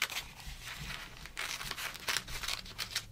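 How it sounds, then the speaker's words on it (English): Scissors rough-cutting paper-backed fusible web around a traced appliqué pattern for a holiday quilt, a steady run of close crisp snips and papery crinkles through the whole stretch. "And once I've traced all three, I'm going to rough cut around it."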